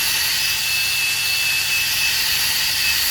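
Suhner UBC 9R belt grinder with a 1.5mm arm and 6mm belt running over a fillet weld, giving a steady, continuous high-pitched abrasive whine that holds level and close throughout, with no speech.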